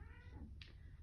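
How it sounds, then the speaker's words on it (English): A house cat lets out a single short meow, faint and close, against a quiet indoor background. "That is my cat, Princess Kitty, by the way."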